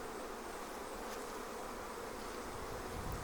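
Honey bees swarm around an Apimaye Ergo hive, a dense, even, high buzz of many insects filling the air, steady and moderately quiet throughout with no talking.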